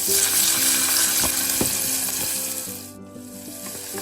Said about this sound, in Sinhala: අඩු ගින්දරේ තප්පර 30ක් විතර බැදගෙන කපාගත්ත ලූණු ටිකක් පොඩි නයි මිරිස් කරකවි දාගෙන ඒ ටිකක් වෙලා සුවඳ එනකම් බැද ගන්නවා.